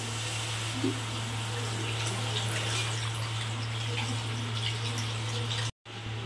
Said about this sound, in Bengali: প্রথমে আমি জল দিলাম।